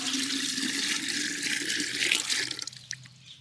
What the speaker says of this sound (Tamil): தண்ணி ஊற்றிக்கலாம் முதல்ல.